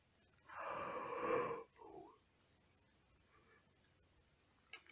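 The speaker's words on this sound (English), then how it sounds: "have to yawn." A person gives one long, loud yawn, rising to a strained peak and then fading into a brief trailing breath, followed by quiet.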